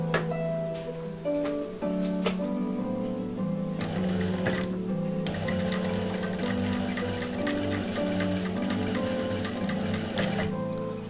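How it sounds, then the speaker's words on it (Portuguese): Close, steady whirring of a sewing machine stitching a patchwork heart block along a marked line, with brief stops and restarts before settling into one long continuous run. "E eu vou costurar bem no risco que eu fiz"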